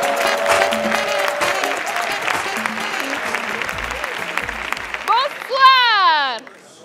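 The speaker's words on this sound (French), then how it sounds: "Un tonnerre d'applaudissements pour Roukiata." An audience at a stand-up comedy show breaks into loud, sustained applause for a comedian, with a few whoops and whistling cheers rising near the end before it dies away.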